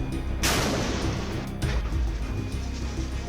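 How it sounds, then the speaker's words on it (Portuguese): A powerful explosion during an attack in Gaza lands as a sudden loud boom followed by a long rumbling decay, with a second heavy blast rolling in moments later amid continuous low roar. "Uma forte explosão."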